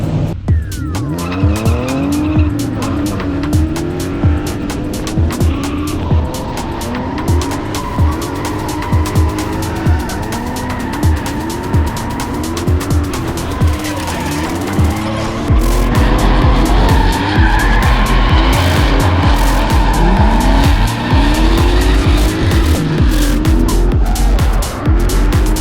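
A car drifts hard during a drift session, its tires squealing in long, rising and falling wails over a loud, revving engine, continuous and close throughout, with the engine roar growing heavier in the later part.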